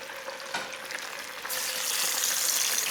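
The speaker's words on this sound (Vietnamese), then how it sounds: "Dầu nóng thì mình từ từ cho đậu vào để chiên nè" Tofu slides into hot oil in a pan, and a loud, close sizzling hiss rises suddenly and continues steadily; no one speaks.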